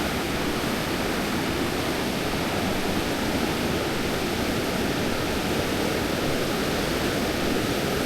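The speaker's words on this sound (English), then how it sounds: "At least we have the nice sounds of the river." Steady, full rushing of a river on the Enchantments hiking traverse, constant and close, with no pauses or other sounds breaking through.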